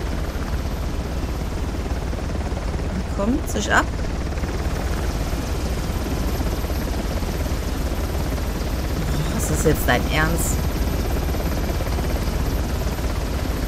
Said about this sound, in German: Natürlich ist der jetzt gerade über uns am Kreisen.